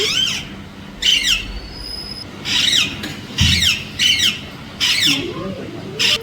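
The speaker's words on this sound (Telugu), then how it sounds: "దానిపైన ఒక చిలుక అయితే వాలి ఎలా సందడి చేస్తుంది చూడండి" A parrot perched in a guava tree squawks in repeated loud, harsh bursts, about seven calls spaced roughly a second apart, close by, with a voice faintly present in the background.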